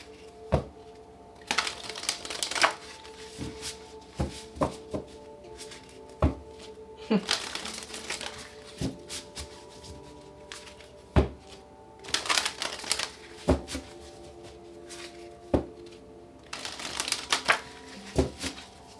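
Tarot cards are shuffled in several quick riffling bursts, with sharp taps and pauses between them, close up and fairly quiet.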